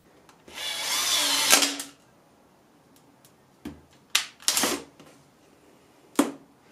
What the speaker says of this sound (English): So I started with a small drill bit and that went well.